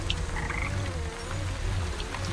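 Frogs croak in the witchcraft crafting game Wytchwood, a steady low chorus of rhythmic croaks over a continuous background ambience, with no talking.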